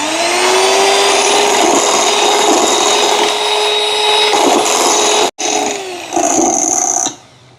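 An electric mixer beats biscuit dough mixed with ginger juice, a loud steady whirring drone close by that cuts out briefly, restarts, then stops.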